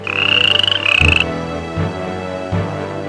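A frog in a children's animated fairy tale croaks in a quick run of rhythmic, throaty pulses, then gives a couple of single deeper croaks, loud and close with no talking.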